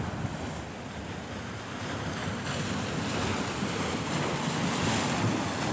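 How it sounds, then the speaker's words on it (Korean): Steady roar of Mediterranean surf washing continuously on the shore at Menton, southern France, with wind buffeting the microphone and no voices. "파도를 구경하는 게 얼마나 괜찮습니까?"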